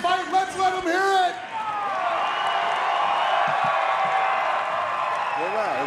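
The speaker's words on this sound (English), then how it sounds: "Remember, the louder you cheer, the harder they fight." Crowd at a championship boxing match cheering and shouting, a dense roar swelling after a brief voice at the start, with whoops and claps in the mass of noise.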